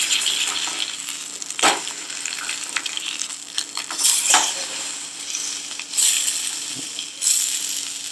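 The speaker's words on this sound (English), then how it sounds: "we've got some steak on. I've got it on the Origo meth stove" Steak fries on an Origo methylated spirits stove in thin metal camping cookware, giving a steady close sizzle broken by a few sharp scrapes and knocks of a utensil against the pan.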